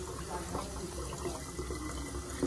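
Tap water runs steadily into a sink while hands are rinsed, a continuous close rushing flow with faint splashing throughout.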